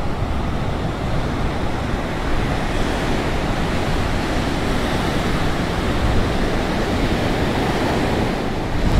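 Steady, broadband rushing of wind buffeting outdoors on California's Lost Coast, continuous and fairly loud with no pauses, like gusts over open ground near the sea.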